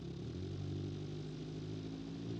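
A car engine in the video game Automation drones steadily at a constant low pitch, fairly close, with no voices.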